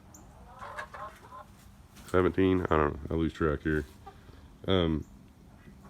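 Hens clucking and cackling in the background while a person talks close by, the clucks rising into louder bursts at times.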